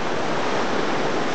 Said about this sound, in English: this is the Ourt, and the current is very strong